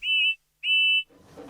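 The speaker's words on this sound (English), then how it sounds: "Then he heard a loud whistle." Two loud, steady, high whistle blasts from George the steamroller in a Thomas & Friends story, each about a third of a second long, separated by a short gap, then a faint rustle.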